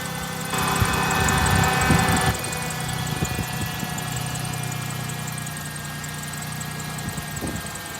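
A 1999 Ford Taurus SE V6 idles at a fairly high, steady speed, a continuous engine hum with a brief louder swell early on, heard alone without talk.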